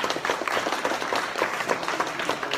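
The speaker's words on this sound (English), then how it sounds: "A big applause for the women tonight!" An audience at a tech event's lightning talks claps in a dense, steady patter of many hands, close and continuous with no voices over it.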